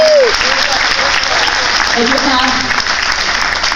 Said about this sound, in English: Big clap to Jill, isn't she great sport?